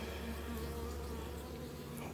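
Honey bees swarming around an opened beehive during a frame inspection, a dense, continuous close-up buzzing hum with steady wingbeat tones and no talk.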